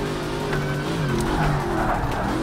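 A car in the video game Project CARS 3 dropping the clutch and skidding, a loud sustained engine roar with rising, wavering pitch and tire squeal across the whole stretch.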